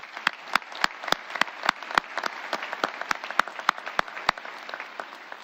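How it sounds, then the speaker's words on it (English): Audience applause at a basic academy class graduation: dense, sustained clapping with sharp, louder individual claps standing out in a loose rhythm, continuous and fairly close. "Another round of applause,"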